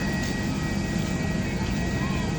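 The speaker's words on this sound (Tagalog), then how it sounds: "Yun yung sinakyan namin aeroplano. Sobrang laki, oh." Large passenger airplane at Puerto Princesa airport, Palawan, producing a steady, loud broadband engine roar and rumble that holds evenly throughout, with a faint high whine on top.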